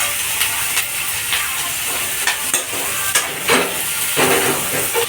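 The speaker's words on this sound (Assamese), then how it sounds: "পিঁয়াজখিনি ধুনীয়াকৈ ভাজি লওঁ।" Onions fry loudly in hot oil for a pork curry, a dense close sizzle with repeated scraping and stirring strokes throughout.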